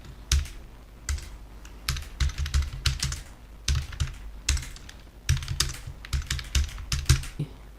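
Computer keyboard typing in quick bursts of clicking keystrokes separated by short pauses, close and clear, with no talking.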